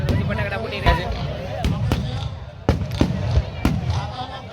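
At the Bhaguda Mogal Dham festival, loud firecrackers go off one after another, about five sharp bangs spaced roughly a second apart, with people talking and crowd noise in the background.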